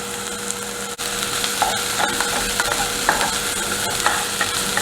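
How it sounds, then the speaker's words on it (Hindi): Green onion and finely chopped green chillies sautéing in a hot pan for restaurant-style chicken Manchurian, a steady close sizzle with soft stirring scrapes throughout. "तकरीबन 1 मिनट हम इसको इसी तरह से सौते करेंगे"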